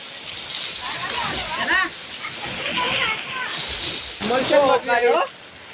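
Heavy monsoon rain and splashing floodwater on a road in Gujarat, a continuous wash of spray and sloshing heard beneath a person talking loudly over it.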